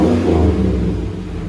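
Deep, close exhaust rumble from a 2015 GMC Sierra Denali with a 6.2L LS V8 and Flowmaster Super 44 dual exhaust, a brief loud rev that slowly eases off.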